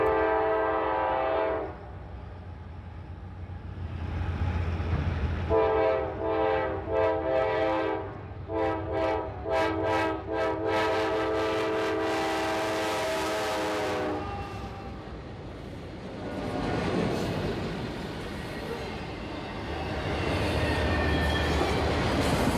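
Local freight L803 rolls past with long, loud blasts of its horn over the rumble of the passing cars, then the horn fades and the wheels clatter on alone.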